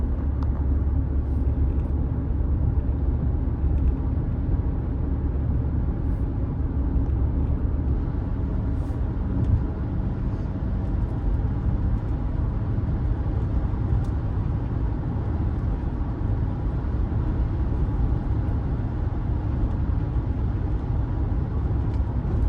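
A car driving along a road, heard from inside the cabin as a steady low engine and tyre rumble with no talk over it.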